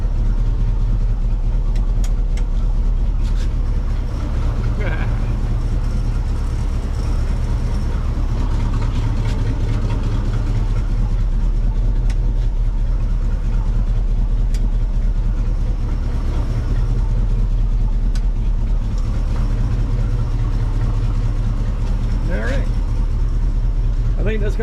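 A 1979 Chevy Silverado C30 Camper Special wrecker truck idles with a loud, steady low rumble that runs without a break throughout, and someone talks over it now and then.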